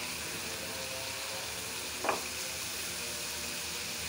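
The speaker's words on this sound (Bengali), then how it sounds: "এখন মশলাটা ভুনা হবে।" Spice paste of tomato and coriander leaves sizzles steadily while frying in a pan, a continuous moderate hiss with one brief louder stir-like burst midway; no voices.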